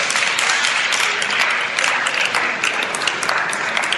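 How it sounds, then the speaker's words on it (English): A room full of high school seniors at Middleton HS applauds, a dense, steady wash of clapping hands that fills the space for the whole stretch at close range, with a faint voice or two mixed into the crowd. "you should give yourselves a round of applause"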